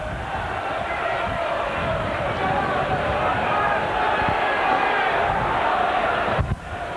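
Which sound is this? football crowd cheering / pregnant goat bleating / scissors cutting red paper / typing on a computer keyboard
football crowd cheering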